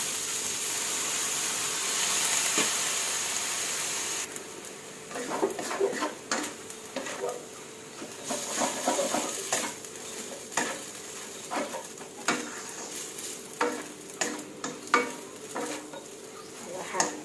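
Glass noodles with cabbage and carrot being stir-fried in a pan. A soft sizzle runs throughout, with intermittent utensil clanks and scrapes against the pan, close and moderately quiet, and no voices.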